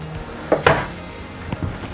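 Storage drawers in an Alliance 24 RK RV slide open, giving a couple of quiet wooden knocks and a soft thud close by, followed by fainter bumps.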